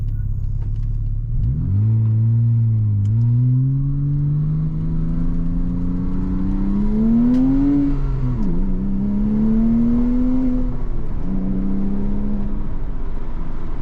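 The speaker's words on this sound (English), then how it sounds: "I do have the right window down just so you can hear this exhaust." A 2007 Porsche Cayman S engine revs up through the gears of its six-speed, pitch climbing steadily then dropping at each shift, loud and continuous with a throaty exhaust note.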